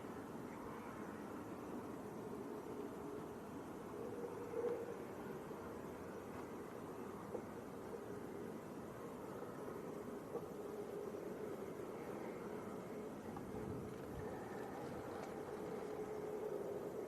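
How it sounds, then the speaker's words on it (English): A Pilatus PC-24 business jet departs near Manchester Airport as a faint, distant, steady rumble that stays low and even throughout, with no voices. "Probably hear the PC-24 going away on the other side."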